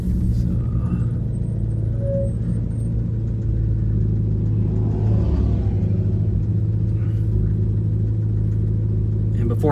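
Chevrolet C8 Corvette driving on a road, a steady deep engine rumble that holds loud and even throughout, with a voice talking faintly over it.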